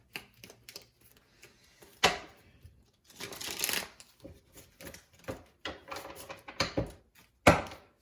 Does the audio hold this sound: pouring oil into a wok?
no